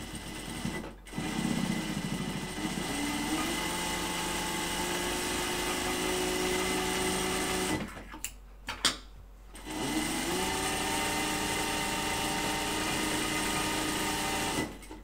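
A binding sewing machine runs while sewing a fabric mask, a steady fast whirring hum that pauses briefly around the middle before starting up again and continuing to the end.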